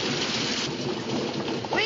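Heavy rain pours steadily during a thunderstorm on a wagon road, a dense continuous wash of noise with a low rumble beneath, loud and close throughout.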